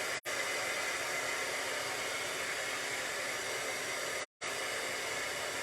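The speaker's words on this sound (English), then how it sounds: "heat up that heat gun or heat tool" A heat gun warming puff paint on vellum blows a steady, close hiss of hot air, cut off twice by brief switch-offs near the start and again near the end.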